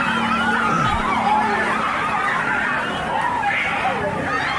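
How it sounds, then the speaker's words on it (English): Crowd noise in a Miami mall: a dense babble of many voices with shrieks and excited cries rising and falling throughout, loud and continuous. "If you notice the screaming and the running, these people are not playing around."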